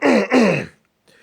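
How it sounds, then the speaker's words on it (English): A man clears his throat close to the microphone in two rough, voiced rasps back to back, then falls silent. "let me clear my throat"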